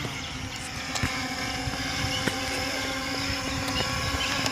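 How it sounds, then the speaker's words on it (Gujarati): An M3 Max drone in flight gives off a steady, buzzing propeller whine with a sustained tonal hum, heard close and continuous with a few faint clicks and no voices. "તો દેખી શકો છો, ડ્રોન આ બહુ આગળ જઈ રહ્યું છે"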